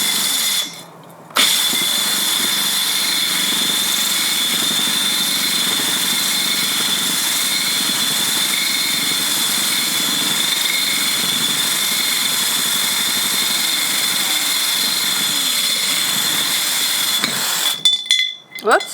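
A power drill grinds a hole through a ceramic pot, loud and sustained after a short pause at the start, then stopping and starting again in a few bursts at the end.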